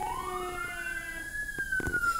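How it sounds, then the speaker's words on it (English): A wailing siren in a Minecraft roleplay rises and sustains in a steady tone, fairly faint as though from a distance, with a few soft clicks near the end. "there goes a siren. Something's going on."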